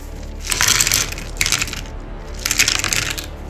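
Dice tumble into a wooden mimic dice chest in three bursts of close clattering, rattling impacts, loud and alone.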